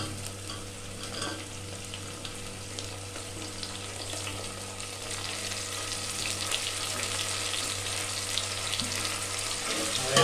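Tomatoes fry in a hot tadka for dal fry, a continuous close hiss and sizzle with the faint scrape of stirring, growing slightly louder toward the end.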